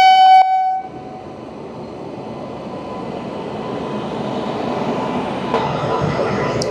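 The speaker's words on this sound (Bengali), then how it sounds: "তো এই ট্রেনটা আর কি আসছে, যেটা সকালবেলায় ছিল হাওড়া থেকে, সেটা এখন ঢুকছে আর কি" Passenger train at a level crossing on the Kolkata to Digha route, opening with a loud brief horn blast, then a broad steady rumble and clatter of wagons rolling past close by, with no voices.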